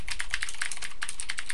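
Rapid, even clicking of keys as someone types a paragraph on a computer keyboard, close and clear with no talking, for about a second and a half.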